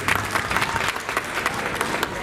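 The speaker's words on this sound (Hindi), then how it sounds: "साथियों उनका आप लोग तालियों से स्वागत कर दे मेरे साथियों" Dense applause from an audience at a political gathering marking Kanshi Ram's birthday, loud and continuous clapping of many hands for a short stretch, with no voice over it.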